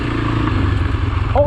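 A motorcycle engine revs loudly under the throttle while a new rider tries off-roading, a steady low growl through the clip that rises and swells near the end.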